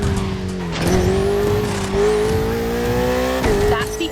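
Ferrari 488 in The Crew Motorfest racing game, its engine droning steadily with rising and falling pitch and a brief tire squeal, close and continuous with no talk over it.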